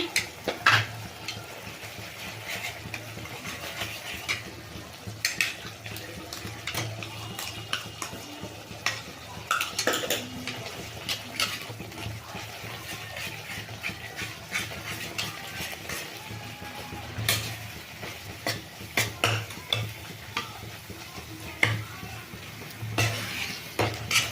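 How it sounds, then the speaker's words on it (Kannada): Powdered curry leaves are stirred into a boiling gojju mixture in a pan for curry leaf rice, with a soft bubbling simmer under repeated scraping clinks of a spoon against the pan. "ಈಗ ಇದು ಚೆಂದ ಕುದೀತಾ ಇದೆ ನಾನು ಪುಡಿ ಮಾಡಿ ಇಟ್ಕೊಂಡಿರೋಂಥ ಕರಿಬೇವ್ದು ಹಾಕ್ತಾಯಿದ್ದೀನಿ"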